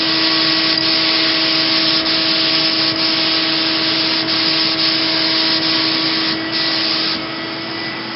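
An airbrush spray-tanning machine sprays steadily, a continuous close hissing whoosh over a tonal motor hum, with brief pauses in the spray and a slight drop in level near the end.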